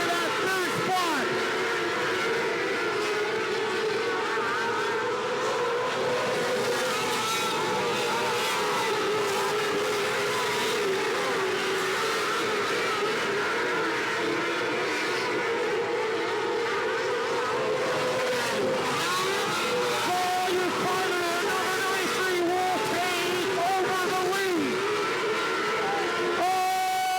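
Race cars roar continuously around an oval short track at KAM Raceway, engines droning and rising as they come out of the fourth corner, a steady loud pack sound with a commentator talking over it.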